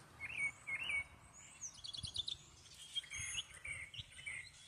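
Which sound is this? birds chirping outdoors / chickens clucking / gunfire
birds chirping outdoors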